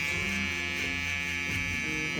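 An electric razor hums steadily while shaving a head, giving a continuous close buzz with a faint voice in the background.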